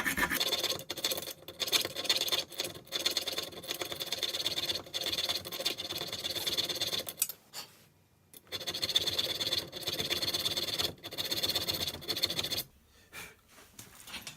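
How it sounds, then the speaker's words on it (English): A small hand hacksaw cuts a groove into a track bar bushing on a Ford Dana 60 axle, with close rhythmic rasping back-and-forth strokes that pause briefly twice before resuming. "I'm going to use this little handle hacksaw to touch it up, because I got the groove started"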